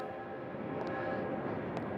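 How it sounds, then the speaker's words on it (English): A train pulls into a station with a continuous rumbling, grinding roll of wheels and cars, steady and moderately loud, with a couple of faint higher squeals. "As the train pulls in,"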